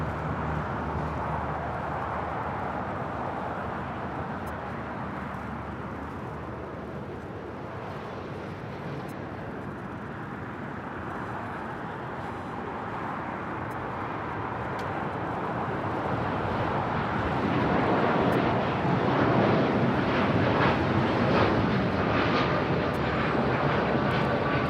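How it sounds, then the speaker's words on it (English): An Aeromexico Boeing 787-9 Dreamliner takes off from Los Angeles LAX, its jet roar a broad steady rumble that swells louder toward the end as the airliner climbs out. "That is Aeromexico 647 taking off to Mexico City on the 787-9 Dreamliner."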